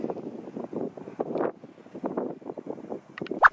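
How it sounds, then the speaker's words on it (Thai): Cool wind blows across the rocky summit of Jochberg in Germany, buffeting the microphone in irregular, uneven gusts. "ลมเย็น"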